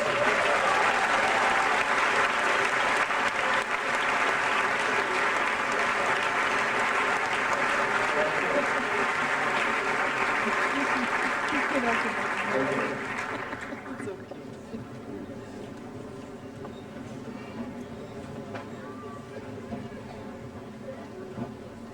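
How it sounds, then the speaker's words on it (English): A graduation ceremony audience gives the graduates loud, dense, sustained applause for about thirteen seconds before it quickly dies away into a quieter room murmur. "give them a round of applause, please."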